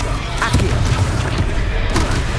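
A Confringo fire spell blasts repeatedly in the Hogwarts Legacy video game, booming impacts layered over continuous loud battle noise with several sharp bursts in quick succession.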